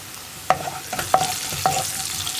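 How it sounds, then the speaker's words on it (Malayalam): Salted sliced onions being stirred in a frying pan for egg-and-pappadam rice: three distinct utensil scrapes at a steady pace over a low sizzle, close and clear, with no talking. "ഉപ്പ് ചേർത്ത് നന്നായിട്ടൊന്ന് ഇളക്കി സവോള ഒന്ന് കുക്കായി തുടങ്ങി"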